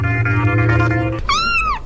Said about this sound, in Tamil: அந்த பூனை வேற மோப்பம் போடுது